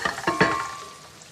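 Pancetta fries in a pan with a soft sizzle, broken by a few quick stirring clatters at the start before the crackle fades lower.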